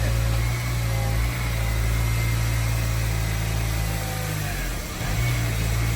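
Acura RSX engine running steadily after an OEM clutch replacement, a close, constant low rumble with a brief dip near the end and no voices.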